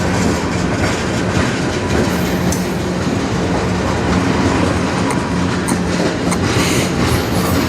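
A CN freight train passes close in Sarnia, Ontario, its cars clattering in a loud continuous roar with rhythmic clickety-clack over the rail joints and light wheel squeal, no talking.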